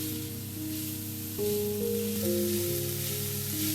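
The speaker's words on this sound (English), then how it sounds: "fried them on all sides until golden brown." Steady sizzling of bacon rolls frying in a hot pan until golden brown, a soft continuous crackle with faint tonal hum in the background, no talking.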